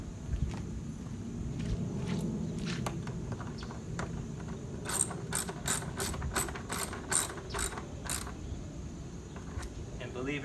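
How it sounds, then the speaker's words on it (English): A ratchet works the nuts on a plastic pool filter lid in a burst of quick, close clicks, with soft handling noise and low rumble around them. "gently tighten the nuts down. Again, this is plastic."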